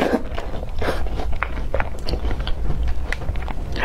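Biscuits soaked in plain milk are eaten close to the microphone, giving soft, wet bites and a steady run of chewing and light crunching with no talk.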